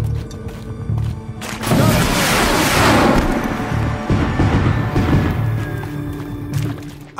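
Heavy gun fire in the Horizon Zero Dawn video game, booming blasts with a long rumbling, crackling roar that swells and fades, accompanied by mechanical clanks.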